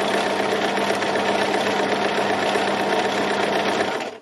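Sewing machine running steadily in a continuous stitching burst with a constant mechanical whir, close and fairly loud, stopping abruptly at the end; used for free-form embroidery of a mountain scene.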